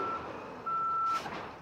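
A garbage truck's reversing alarm sounds as steady electronic beeps, a long tone broken by gaps, fairly clear over a low rumble of traffic and engine noise, with a brief hiss near the end.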